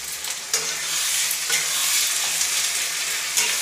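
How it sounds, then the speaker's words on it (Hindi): Ginger and garlic paste frying in a pan with browned onions for a chicken dish, a steady loud sizzle with faint stirring scrapes throughout and no talk. "लाल होने के बाद मैं दे दूंगी अदरक और लहसुन का पेस्ट।"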